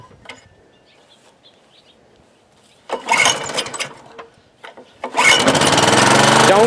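A 1987 Honda HRA214 lawnmower engine catches and runs loud and rough after a quiet stretch, surging in two bursts before settling into a steady, strong roar.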